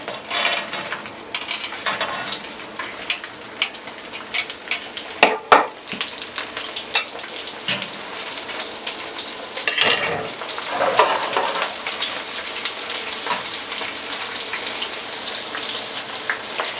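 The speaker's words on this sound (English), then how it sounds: "this ain't going to take long for the second fry" General Tso chicken pieces sizzle loudly in hot oil during a second fry, a dense continuous crackle close up, with occasional clatter of utensils against the pot and bursts of bubbling.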